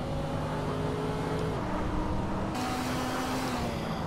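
V8 car engine in a racing video game, a fairly quiet, continuous engine drone with rising and falling revs and a shift partway through, heard alone without talk.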